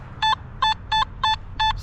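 A Nokta Makro Simplex metal detector sounds its target signal as five short, evenly spaced electronic beeps, loud and close, with no talking.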